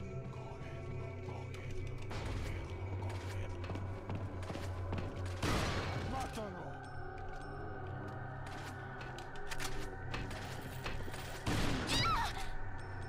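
Gunfire in Resident Evil 4, with several sharp shots bursting out amid steady game background sound, the loudest near the middle and another near the end, with no talking.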